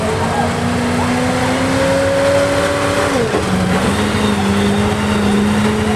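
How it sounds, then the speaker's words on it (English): Stock 4x4 pickup truck engine roaring under heavy load at an FFA truck pull, a sustained loud drone that climbs steadily in pitch, dips sharply midway, then holds steady again, with an announcer talking over it. "All right, green light, green flag, here he comes with a green truck."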